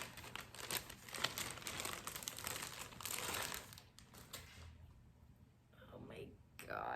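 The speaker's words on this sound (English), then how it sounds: "And then wrapped in plastic." Plastic wrapping is crinkled and pulled off a refurbished Canon camera, giving close, busy rustling and crackling bursts that thin out toward the end, with soft speech underneath.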